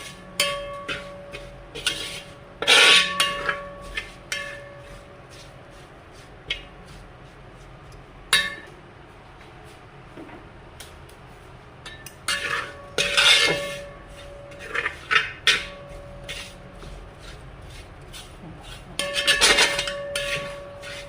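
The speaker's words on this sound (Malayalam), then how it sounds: "ഇളക്കി കൊടുക്കാം." A metal spoon scrapes and clinks against a pan in irregular bursts as chili flakes are stirred into prawn pickle, close sharp strokes separated by quieter pauses, with no voices.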